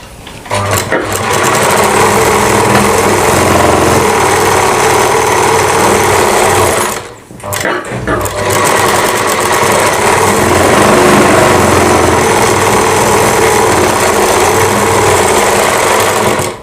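A sewing machine runs steadily while stitching a blouse (kanchli), a loud continuous whirring hum that stops briefly about midway and then resumes.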